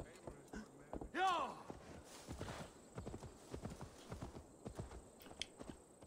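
In Assassin's Creed Valhalla, a horse's hooves clip-clop at a walking pace, with a brief neigh early on, quiet and close, while someone talks over the hoofbeats.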